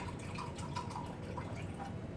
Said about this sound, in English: And I'm going to go ahead and pour another half cup